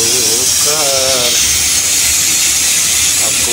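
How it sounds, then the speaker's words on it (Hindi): A pressure cooker whistles on a home stove while liver and stones cook, a loud sustained steam hiss with a wavering whistle tone rising and falling near the start, then continuous close hissing. "अब कुकर सीटी मार दिया है"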